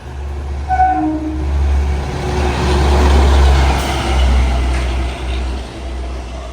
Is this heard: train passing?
yes